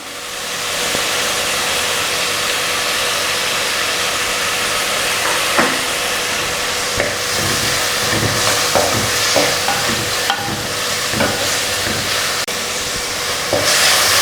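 Chicken thoran frying in a pan with curry leaves gives off a loud, steady sizzle, with scraping stirs of the spoon scattered across it.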